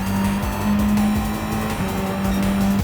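A Group 1 race car in Gran Turismo 7 at Daytona screams at full throttle, its engine holding a steady high-pitched drone with slight pitch shifts and faint tire scrub, loud and continuous with no talk.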